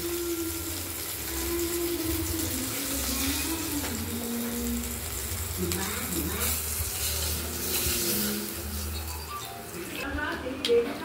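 Bay leaf, black cumin and cumin crackle in hot oil as a tempering for rohu fish curry, a steady close sizzle with spoon stirring, while a voice talks over it.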